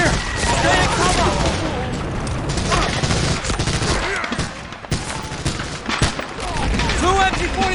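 Dense wartime battle in a Medal of Honor beach assault game: sustained MG-42 machine gun bursts and booming artillery blasts, loud and continuous, with shouted voices mixed in.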